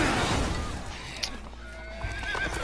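A horse in the video game The Order: 1886 whinnies loudly and close, its high neigh trailing off, with a few faint hoof clops afterward.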